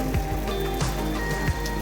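Steady rain falls on a morning car park on the way up Mount Telomoyo, a dense, even patter of drops with a few louder nearby splashes, no voices.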